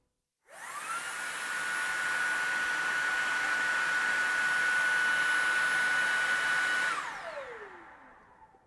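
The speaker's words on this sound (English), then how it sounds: "So that's boost on the Detect Pro." A Shark Detect Pro vacuum cleaner powers up in boost mode, holding a loud, steady high-pitched motor whine with broadband airflow rush for about six seconds before spinning down with a falling tone.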